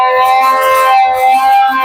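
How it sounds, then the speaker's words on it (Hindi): Civil defense siren blaring during a mock drill, a loud, steady wailing tone that holds throughout without pause. "सायरन बज चुका है।"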